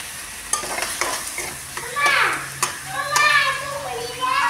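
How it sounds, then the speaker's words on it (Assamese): Tomato and green chili sizzle and fry in a pan while a spatula scrapes and stirs in repeated strokes, close and fairly loud, with a voice and some talk faintly in the background. "সকলোখিনি দি অকণ ভাজি লৈছোঁ"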